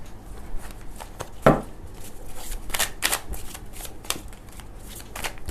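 Tarot cards are shuffled by hand in a quick, crisp riffling rhythm of soft papery flicks and taps, close and moderately quiet, with one sharper slap partway through.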